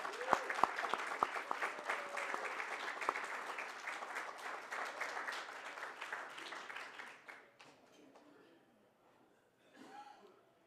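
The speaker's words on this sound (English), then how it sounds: "I'd like to give them a round of applause for everything we've accomplished so far tonight" Audience at a 15th anniversary celebration gala breaks into sustained applause, dense clapping that gradually thins out and fades, with light chuckles and a few voices toward the end.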